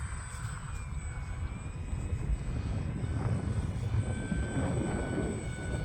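An E-flite UMX Turbo Timber Evolution radio-controlled plane flies on its electric motor at about half throttle, a steady whine with slowly drifting pitch over a continuous rumble of wind.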